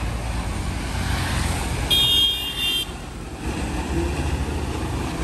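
A truck drives along a road, its steady engine and tyre rumble filling the scene with a brief high tonal squeal partway through.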